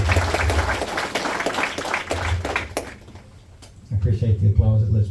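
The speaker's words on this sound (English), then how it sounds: "I appreciate the applause." Audience applause at a town hall meeting in a civic center, a burst of clapping that fades to near quiet midway before a voice begins speaking over the room.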